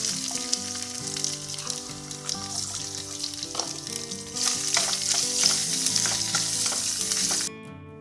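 Coconut pieces fry in a pan for upma, a dense, steady sizzle with stirring that swells and brightens midway, and soft music runs beneath it before it cuts off near the end.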